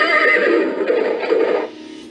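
A horse neighing as a sound effect in a spoken tale about a headless rider on a great white horse: one loud, close, drawn-out whinny that trails off, alone with no talk.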